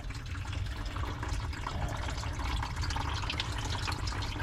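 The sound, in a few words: drained water pouring out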